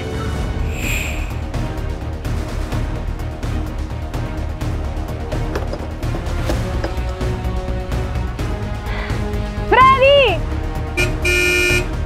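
Car pulling up and tooting its horn several times in short honks near the end, engine audible underneath while people talk.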